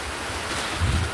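Strong wind sweeps past a house that faces the sea during rain and wind. It makes a steady, broad rush over the microphone, with a low gust swelling near the end and no talk.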